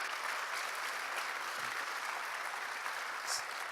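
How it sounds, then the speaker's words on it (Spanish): A church congregation breaks into steady, full applause, a dense wash of clapping that holds evenly from start to finish with no voices on top. "Si quiere aplaudir, hágalo con gozo."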